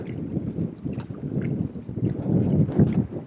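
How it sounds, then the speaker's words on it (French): Strong wind at a lake during feeder fishing: a rough, low buffeting roar with gusts battering the microphone, continuous and close, with no talking. "le vent est vraiment très très fort"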